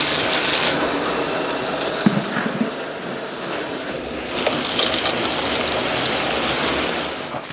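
A cyclocross bike's chain and drivetrain whir and tick steadily as the cranks turn and gears shift, with a loud continuous ratcheting clatter that rises again near the end, and no voices.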